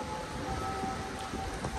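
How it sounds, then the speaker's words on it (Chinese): Heavy rain pours steadily at the bow of a free ferry crossing to Penang, a dense, even hiss with a faint steady engine tone running beneath it and no voices. "下雨哦，好大的雨啊！"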